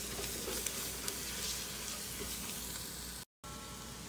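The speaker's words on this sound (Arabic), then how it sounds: "تحمر عندي البصل راح أضيف له من البهارات" Onions frying with spices in a pan for a spiced rice and meat dish, a close steady sizzle with crackling pops, cut by a brief silent gap near the end.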